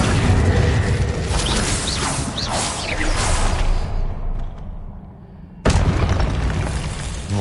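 Spell effects from the Hogwarts Legacy video game, Incendio fire and Accio pull, play as loud whooshing bursts and booms with mechanical clatter, easing to a quieter stretch before a sudden loud burst returns near the end.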